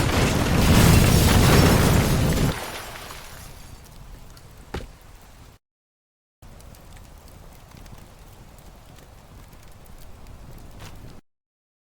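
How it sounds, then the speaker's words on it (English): A loud, roaring blast from the 9/11 World Trade Center attack rumbles for a couple of seconds. A long, steady outdoor hiss with faint scattered crackles of falling debris follows it, and there is no speech. "a huge explosion now raining debris on all of us"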